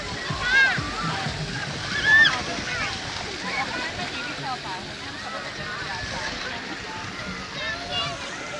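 Children swim and splash in an outdoor resort pool with steady watery splashing and sloshing, and shrill young voices and shouts echo across it. The sound stays busy and moderately loud throughout.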